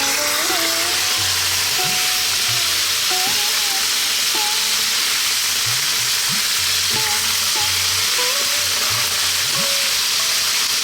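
Stewing beef frying in a curry pot, a constant loud sizzle and hiss with intermittent scraping and knocking from near-continuous stirring, close up and with no talk.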